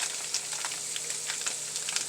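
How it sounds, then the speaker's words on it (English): Parmesan-laced sauce being stirred in a hot pan, a steady soft sizzle with faint scraping stirs over about two seconds, no talking. "You can stir it around. All right."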